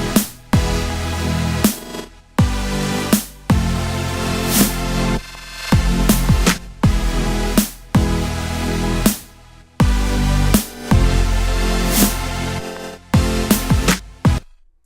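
A Serum synth passed through a FabFilter bit crusher and Saturn saturation, playing gritty chords broken by sharp, distorted jabs in the gaps, loud and choppy over about fifteen seconds without speech.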